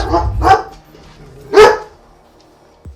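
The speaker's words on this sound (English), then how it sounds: "Ignore my dog. He spotted something." A dog barks twice nearby, loud and sharp, about a second apart, followed by a faint thump, heard indoors during a casual Rainbow Six Siege match session.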